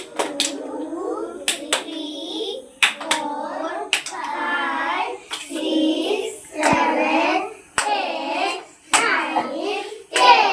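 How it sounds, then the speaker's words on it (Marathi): Children clap their hands together in rhythm, sharp claps landing in short regular bursts with young voices chanting or counting between them. "मी तुम्हाला ना आज आहे ना टाळ्या वाजवायला शिकवणार आहे"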